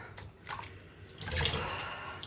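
Tap water runs and splashes at a kitchen sink while a fork crusted with old spaghetti is scrubbed clean, a close, continuous wash that swells louder midway.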